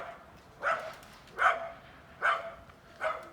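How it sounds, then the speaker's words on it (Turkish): A large dog barks four times at a steady pace, moderately close, with quiet outdoor background between barks, in Thal near Graz, Styria, Austria. "Koca bir köpek geçti ona havlıyor."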